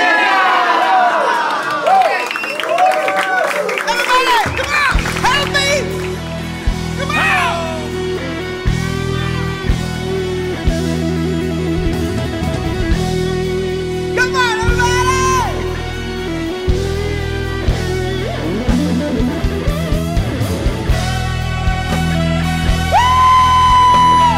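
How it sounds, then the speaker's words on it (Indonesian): A crowd of concert fans shouting in unison during an Indonesian music event, a loud roaring chant that keeps going, with music playing and the crowd cheering and yelling throughout. "Ketiga kita teriak hidup musik Indonesia."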